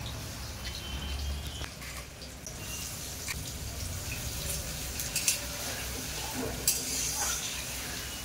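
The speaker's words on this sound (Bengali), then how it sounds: "নুন হলুদ মাখানো আলু তেলের মধ্যে দেবো" Faint, steady sizzling of salt-and-turmeric-coated potatoes frying in oil, with occasional small pops and clicks, close by and without voices.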